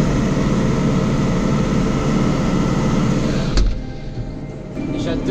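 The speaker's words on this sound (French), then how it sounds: "J'adore le bruit du 309." Peugeot 309 engine running loud and steady while the car drives uphill, a dense low rumble filling the first few seconds before a sharp bump and a quieter, thinner engine note.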